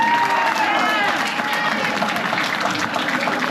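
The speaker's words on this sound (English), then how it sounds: "Another big round of applause for both fighters," Audience applauding both fighters after a combat sports bout, a steady, even wash of clapping from a crowd, moderately loud and uninterrupted for the whole stretch.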